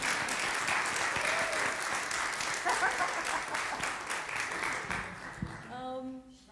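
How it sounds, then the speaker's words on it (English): Audience applause after a holiday performance of A Christmas Carol, sustained clapping from a crowd that fades near the end as a voice begins to speak. "Can we have a round of applause for this lovely lady who's been working her tail off?"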